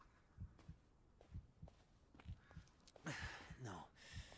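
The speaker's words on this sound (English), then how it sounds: "I don't need to be hearing my heartbeat right now." Faint, steady thumping heartbeat from the Blair Witch video game, low double pulses repeating under a quiet ambient hum, with a brief burst of other game noise near the end.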